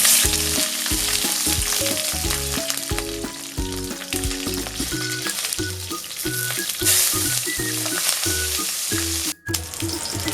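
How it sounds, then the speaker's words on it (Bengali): Cubed onions frying in hot white cooking oil, a continuous loud sizzle with bubbling crackle, backed by a melodic tune and no talking. "আমি প্রথমে কিউব করে রাখা পেঁয়াজটা ভেজে নেব"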